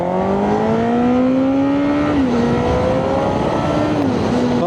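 A Honda CBR1000RR motorcycle engine drones loud and close while riding, its pitch rising steadily then dipping briefly twice as the revs shift, heard alone without talk.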